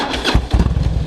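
A Harley-Davidson motorcycle fitted with a full Vance & Hines exhaust idles close by, giving a loud, steady low rumble with uneven pulsing throbs.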